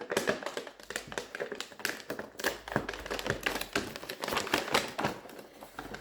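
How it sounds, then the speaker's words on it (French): A Blissim beauty gift box in its gift wrapping is unwrapped, with steady close crinkling, tearing and tapping of paper and cardboard, busy and irregular throughout, with no talking. "Alors, on le déballe."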